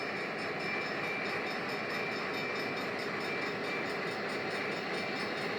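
A BNSF freight train led by a CF7 locomotive rolls past, a steady, loud, unbroken rumble and roar that holds for the whole stretch without a horn.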